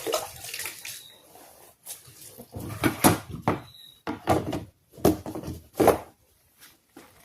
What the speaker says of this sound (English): partially fill the tank with fresh, clean water